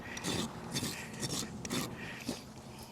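A farrier's rasp scrapes across a weanling's hoof with a cracked, split wall, making repeated rough, gritty strokes in bursts, close and fairly loud.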